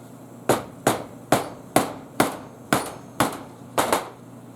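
A tool striking metal while forcing the gasket seal out of a BMW 550i/650i LuK LFR-440 power steering pump, nine evenly spaced sharp hammer taps, close and loud with no talking.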